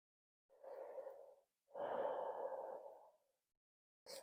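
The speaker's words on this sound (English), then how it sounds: "Taking one more breath here." Slow, soft breathing during a yoga pose, two long airy breaths close to the ear with quiet gaps between, faint and unhurried.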